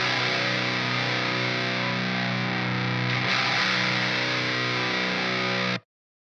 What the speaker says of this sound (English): Let's start off with the chuggy guitars